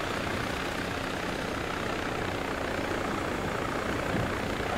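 Helicopter engine and rotor in a military video game, a dense, steady wash of droning noise close by, running without pause and with no talk over it.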